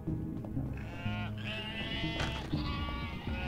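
Sheep bleat repeatedly in the video game UnMetal, several wavering calls layered over a steady droning game background.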